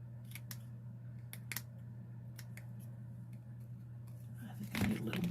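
Scissors snip through a paper craft in several short, crisp cuts, some in quick pairs, close by over a low steady hum, with a louder rustle near the end.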